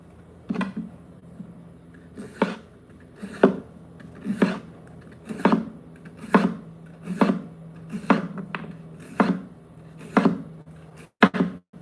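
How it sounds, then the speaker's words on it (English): A knife chops through onion pieces on a board in a kitchen, giving a steady series of about a dozen close, crisp thuds, spaced roughly a second apart. "We're gonna cut up some more onion pieces."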